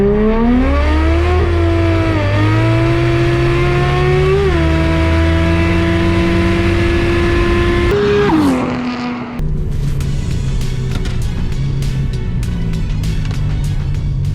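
Cars accelerate hard in a 40k roll race, engines rising in pitch through several gear shifts, loud and close, with a slight loss of traction and a second engine roaring after the shift.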